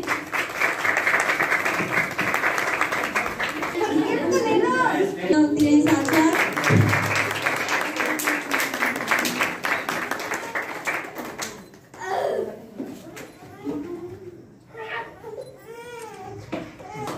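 Audience claps at a celebration for the International Day of Persons with Disabilities, a sustained round of applause for several seconds that fades out, followed by someone speaking and a child crying or whimpering nearby.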